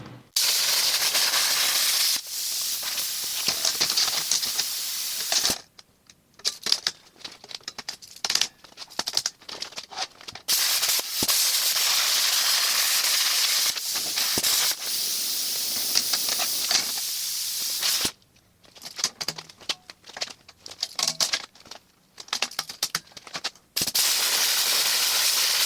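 Metal welding on a 2016 Ram flatbed, a steady crackling, hissing arc in long runs broken by short pauses and bursts of sputtering, close and loud.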